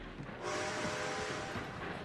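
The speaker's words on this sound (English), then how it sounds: "Train's coming in." A train arrives in Red Dead Online with a loud, steady rolling rumble and hiss, steam whistle tones running through it, close and continuous.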